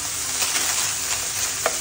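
White onion sautéing in a hot pan gives a steady, close sizzle with occasional stirring scrapes and pops, and no voices.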